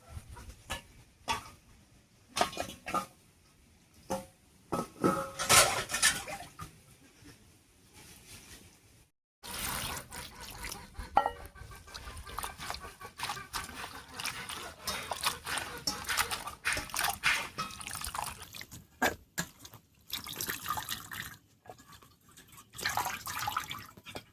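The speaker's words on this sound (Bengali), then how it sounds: "মিষ্টি কুমড়োর ডাটা পাতা সব কেটে নিয়েছি, এবার পরিষ্কার করে ধুয়ে নিচ্ছি।" Freshly cut pumpkin greens and stems are washed by hand in water, with intermittent splashing and sloshing coming in bursts and pauses, close up but fairly quiet.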